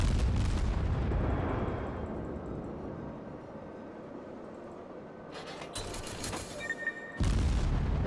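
Warship naval guns fire in the World of Warships game, deep rumbling booms with a long low tail, then a sharper blast near the end against a steady background hum.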